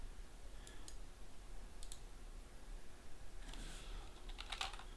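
Short bursts of computer keyboard typing, a few quick keystroke clusters separated by pauses and a denser flurry near the end, over a quiet room hum while working in Unreal Engine 4.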